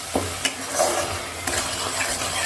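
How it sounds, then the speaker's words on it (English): A spoon stirs prawn malai curry in a pan with soft scraping and clinks over a faint sizzle, a few sharper taps standing out against the quiet cooking. "Stir it well."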